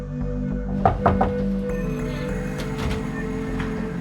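Knocking on the front door of a home: three firm knocks close by in quick succession, followed by quiet room noise.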